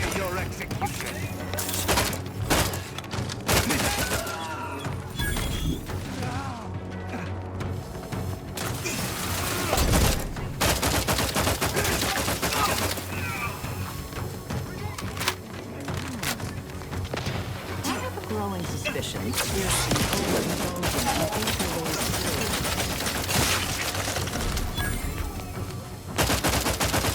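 Combat in The Outer Worlds 2 video game, with a grenade blast and bursts of rapid gunfire, sharp cracks and mechanical clatter mixed under character voices throughout.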